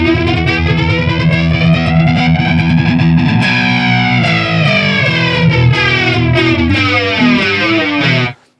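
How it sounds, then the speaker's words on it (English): A distorted electric guitar chord drenched in a sweeping flanger from an Akai analog pedal, its jet-like whoosh rising and falling before the sound cuts off abruptly. "give you a kind of full out flanger tone"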